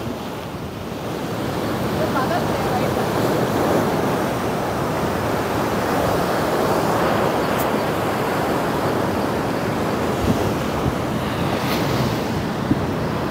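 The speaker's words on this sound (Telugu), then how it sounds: "వేవ్స్ మాత్రం ఒక రేంజ్లో వస్తున్నాయి." Ocean surf rolls in continuously at Bheemili beach, a broad loud roar of breaking waves mixed with wind buffeting the microphone, with no speech heard.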